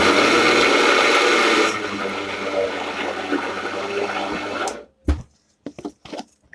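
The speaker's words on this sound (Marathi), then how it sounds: "अशा पद्धतीने छान बारीक करायचं आहे मोदकासाठी मसाला आमटीचा मसाला वाटायचा आहे" A mixer grinder whirs loudly and steadily as it grinds onion-garlic masala with salt for a modak curry, then stops and leaves a few knocks and clatters.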